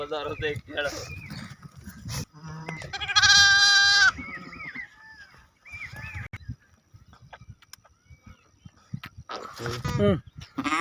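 Sheep and goats in a large flock bleat loudly in bursts, close by, during livestock injections, with people talking between the calls.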